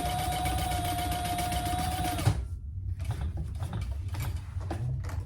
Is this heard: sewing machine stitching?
yes